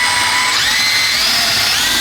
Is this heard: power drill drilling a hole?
yes